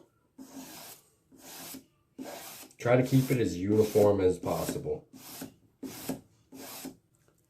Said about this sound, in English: when you're done doing the filing and the sanding with the emery paper